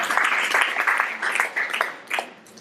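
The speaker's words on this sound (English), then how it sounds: "huge round of applause for him" A meetup audience claps to welcome a speaker to the stage, moderate scattered applause from a small crowd that swells and fades in uneven bursts.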